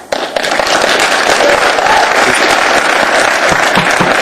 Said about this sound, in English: Applause really isn't appropriate, even though I appreciate it.